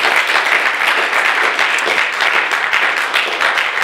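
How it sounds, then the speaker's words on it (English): A church congregation at a Baptist service bursts into sustained applause, dense and loud, many hands clapping evenly without pause. "Can we give an applause to our Almighty God now?"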